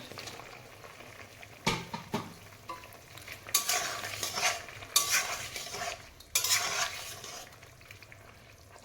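Small puti fish fry in oil in a pan, giving a broad close sizzle that swells loud in bursts, with a few spatula scrapes and knocks early on and no voices.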